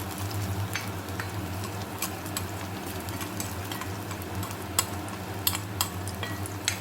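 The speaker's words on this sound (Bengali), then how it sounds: "এক পাশ ভাজা হয়ে গেলে তারপর দুটো পাশ ভেজে নেব।" Stuffed ash gourd fritters frying in oil give a soft, steady sizzle with a low hum beneath and a few faint utensil clicks near the end; gentle and close, no voices.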